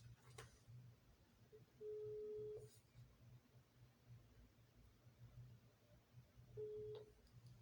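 A telephone call being placed: a few dialing clicks, then two long ringback tones separated by a pause, heard over a steady low hum of room noise.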